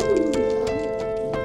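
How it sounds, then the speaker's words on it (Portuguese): Flying pigeons in moult, kept in a loft, coo softly in low repeated calls, with faint flutters and light clicks scattered through the background. "Tô mostrando a pombada pra galera aí, os pombos de voo aí, ó."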